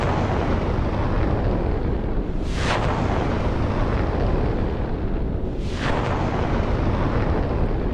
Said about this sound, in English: A missile just went right overhead.